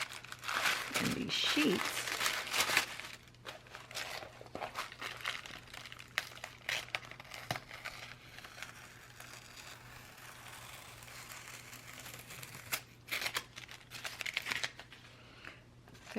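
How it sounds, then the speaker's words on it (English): Masking tape peeled slowly off paper sheets for a Momigami altered composition journal, giving crinkly tearing and crumpling bursts at close range, loudest early on, with a person speaking intermittently. "Now I'm going to go ahead and remove the masking tape"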